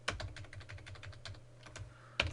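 Quick, uneven keystrokes on a computer keyboard, a steady run of light close taps with a louder clack at the end, heard alone in a quiet room.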